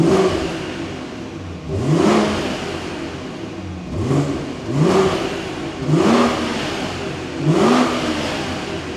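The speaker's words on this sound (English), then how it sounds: "So valves closed to start with." BMW 540i exhaust with valves closed: the engine is blipped and revved four times in a steady rhythm, each rise swelling into a throaty roar before falling back to a rumbling idle, close and loud.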